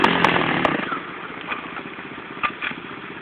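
A 110 pitbike being ridden, its small single-cylinder engine buzzing and revving loudly up close, with short throttle blips rising and falling over a few seconds.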